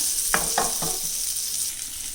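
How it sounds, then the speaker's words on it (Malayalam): Melting butter, one spoonful, sizzles steadily in a hot pan on the stove for a pancake, a constant bright hiss with a few soft scraping touches near the start, no voices. "പാൻ അടുപ്പത്ത് വെച്ച് കുറച്ച് ബട്ടർ ഇട്ട് കൊടുത്തിട്ടുണ്ട്."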